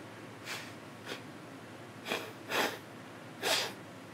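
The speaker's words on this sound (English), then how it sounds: "Excuse me for blowing my nose" Someone blows their nose several times in short, breathy nasal bursts, faint and spaced out, the last two louder than the first.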